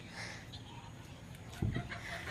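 Chickens cluck inside a rain-soaked coop, soft scattered clucks near the microphone over faint background patter, with one louder burst just after the midpoint.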